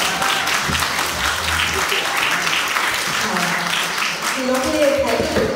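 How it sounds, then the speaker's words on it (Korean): Concert audience applause for four performing artists during the second half of a concert, steady loud clapping that runs throughout, with a voice speaking over it. "큰 박수 한번 부탁드릴게요."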